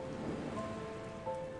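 Steady rain patters down on the upper slopes of a Galapagos island in a dense, even wash, with no voices and a few brighter drops standing out near the end.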